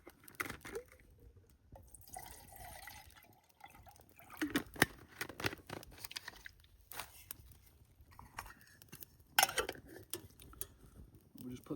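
A metal kettle is readied for a titanium ultralight wood stove: irregular clinks, clanks and scrapes of metal, some sharp and close, with occasional soft watery sounds and brief speech.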